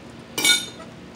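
Egg and water being mixed into flour for pierogi dough in a bowl: one brief clink-and-scrape burst from a utensil against the bowl, fairly close, surrounded by quiet room tone.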